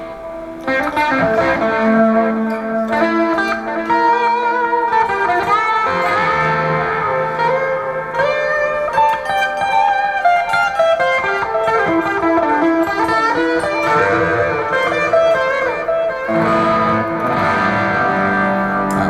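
An electric guitar plays a melodic line with overdriven tone and echoing repeats trailing each note, loud and continuous; the overdrive and delay come from a Neural DSP plug-in switched with an M-Vave Chocolate Plus MIDI controller.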